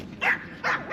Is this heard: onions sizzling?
no